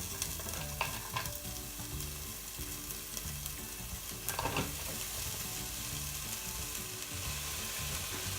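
Onion fries alongside salmon, garlic and ginger in a pan, producing a dense, even sizzle throughout with occasional clicks of stirring, up close at low volume.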